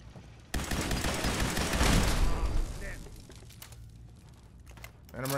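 Gunfire in Fallout 4, a video game: a sudden loud burst of rapid shots rolls into a sustained noisy barrage, fading toward a quieter tail with a few faint crackles.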